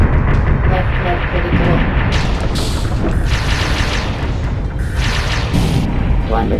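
Mech weapons in VOX Machinae set off loud, heavy explosions, a continuous roar of booming blasts with bursts of crackling debris, close and dominant throughout.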